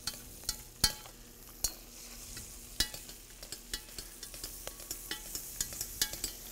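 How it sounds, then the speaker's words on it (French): Pan sugars deglazed with Talisker whisky while making a bisque give a steady close sizzle and frying hiss, punctuated by repeated sharp utensil clicks and scrapes from stirring, with no talking. "on va déglacer les sucres au talisker"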